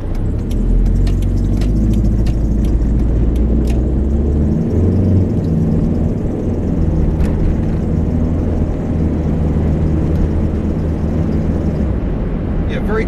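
Toyota Estima Lucida van engine rising and shifting up through the gears on a road test, a steady loud drone of engine and road rumble throughout.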